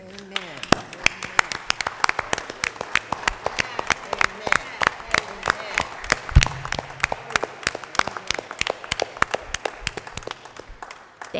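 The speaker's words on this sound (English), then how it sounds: "Can we just have you stand for a minute so we can give ourselves a clap" A congregation at a church liturgy clapping together, a fairly dense run of sharp hand claps in a reverberant room, with voices heard underneath.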